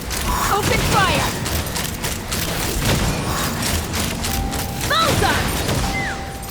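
Gunfire in the Genshin Impact video game: a dense run of sharp, loud bursts crackling over busy battle effects, with short chirping tones mixed in throughout.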